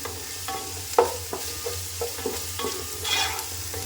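Whole small onions roasting with mutton in a pan, a soft continuous sizzle broken by scraping stirs, one sharper clatter near the start and another burst toward the end, fairly close with no voices.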